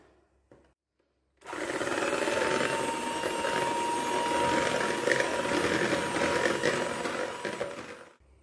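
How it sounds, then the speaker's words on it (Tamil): An electric hand beater whips ghee in a bowl for biscuit dough, switching on after a moment of quiet and running with a steady, close, whirring buzz until it stops just before the end. "இப்போ இதை பீட்டர் வச்சு நல்லா பீட் பண்ணி நம்ம கலர் மாறுற அளவுக்கு அடிச்சுக்கலாங்க"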